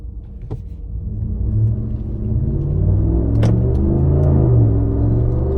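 A powerful 5.7-liter V8 car engine rumbles deep and steady, then builds as it accelerates, a loud throaty roar rising over a few seconds.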